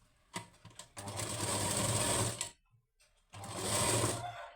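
A sewing machine stitching a lined blouse runs in two sustained bursts of rapid, even whirring, preceded by a few short clicks and separated by a brief pause.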